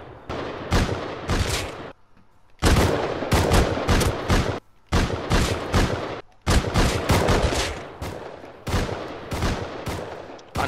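Rapid bursts of automatic gunfire in the video game Console Rust, loud and close, firing in repeated strings separated by short pauses, no talking.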